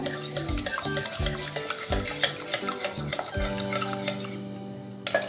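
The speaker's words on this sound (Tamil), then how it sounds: "நல்லா அந்த வெள்ளைக்கரு மஞ்சள் நல்லா கலந்துட்டு ஒரு லைட்டான எல்லோ கலர் வர அளவுக்கு பீட் பண்ணிக்கோங்க" Egg whites and yolks beaten together in a bowl for a coffee chocolate cake: quick rhythmic clinks and scraping strokes against the bowl, repeating steadily over soft background music.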